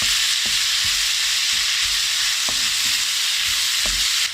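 Tomatoes stirred in a frying pan give a steady loud sizzle, broken every second or so by soft knocks and scrapes of the spoon against the pan.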